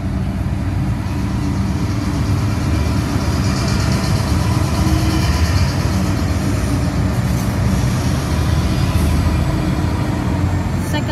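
Train led by locomotive 8257 passing with a steady, loud low rumble and roar that holds throughout, faint higher metallic squeals above it, close by with no talk.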